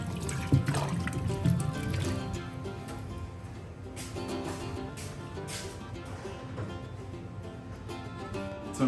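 Running water trickles and splashes steadily as garden vegetables are rinsed at a kitchen sink, with occasional handling knocks, close and moderately loud, no talking.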